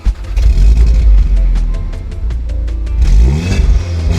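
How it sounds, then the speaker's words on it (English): A Volkswagen Golf R with a TSI engine, DSG gearbox and aftermarket downpipe revs hard nearby, a loud deep engine roar with rapid crackling pops from the exhaust, then the revs climb again, no talking. "does this car even sound any different from a normal TSI?"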